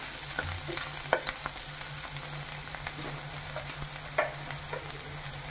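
Ginger-shallot paste and slit green chillies fry in a pan for an egg curry, giving a steady, fairly soft sizzle broken by scattered clicks and scrapes of stirring.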